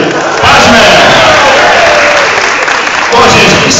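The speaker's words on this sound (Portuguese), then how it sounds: "Palmas para a Priscila." Loud audience applause and cheering at a women's Star Wars cosplay contest at JediCon MG 2011, a dense close roar of clapping and shouts that swells and dips, with voices mixed in.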